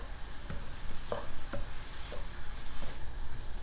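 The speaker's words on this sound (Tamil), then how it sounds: "அந்த துருவிய தேங்காவையும் போட்டு நல்லா வதக்கிடலாம்." Grated coconut sautés in a pan with a soft continuous sizzle and several distinct scraping stirs of a spoon against the pan at irregular intervals.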